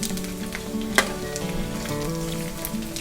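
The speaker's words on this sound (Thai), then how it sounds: "ใส่แป้งทอดกรอบลงไปนิดนึงเนี่ย สามชั้นนี่จะไม่มีการกระเด็นเลยทอดง่ายทอดสบายเลยนะคะ" Pork belly coated in a little crispy frying batter sizzles steadily in hot oil, with a constant close crackle and one sharper pop near the middle.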